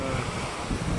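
Strong sea waves churn in a bay after a typhoon, with fishing boats moored nearby; a loud, rough wash of surf and wind buffeting the microphone, continuous and close.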